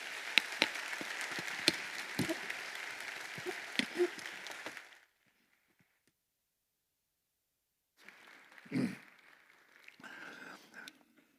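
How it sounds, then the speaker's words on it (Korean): A church audience claps to welcome a guest lecturer to the stage. A dense patter of hands lasts about five seconds and then stops abruptly, followed by silence and faint scattered room sounds. "뜨거운 박수로"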